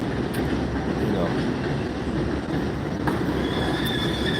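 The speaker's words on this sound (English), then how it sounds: "You hear the train in the background." A train rumbles past steadily in the background outdoors on a sunny day, a loud continuous roll with faint wheel squeal, while someone talks over it.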